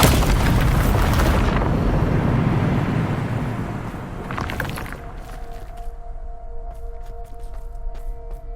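A loud booming blast from the Bombarda spell in the video game Hogwarts Legacy, a heavy explosion that rumbles for several seconds, then a second crash gives way to quieter ringing game tones.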